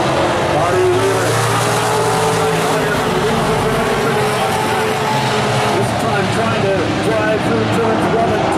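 Vintage modified race cars roar around South Sound Speedway in a late-race battle, a loud continuous blend of engines under an announcer's fast commentary.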